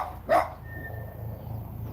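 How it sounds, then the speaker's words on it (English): A single short dog bark sounds close and fairly loud, followed by a low steady rumble in the background. "Here, puppy, puppy"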